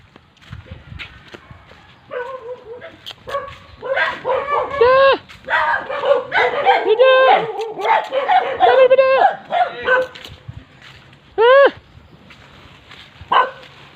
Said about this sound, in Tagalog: Daming aso talaga.